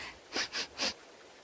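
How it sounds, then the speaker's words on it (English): Three quick sniffs from a video game character, evenly spaced, close and fairly loud, with no other sound around them. "Stop sniffing things."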